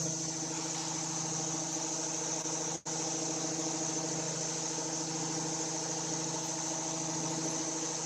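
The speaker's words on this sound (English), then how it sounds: "I gotta go shut the air compressor off." An air compressor runs in a car repair shop with a steady, droning mechanical hum. It breaks off for an instant in a single brief dropout and then carries on unchanged, close and constant.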